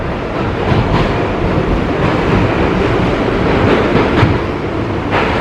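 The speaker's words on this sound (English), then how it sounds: "I'm here in the subway train" Steady, loud rumbling roar of a New York City subway train riding along the rails, heard from inside, with a constant rushing noise and faint rattles, no voices.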